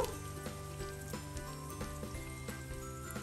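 Chopped onion sizzling in hot oil in a pan for a curry of bitter gourd and singi fish, a steady close crackle with faint rhythmic pops throughout and no voices.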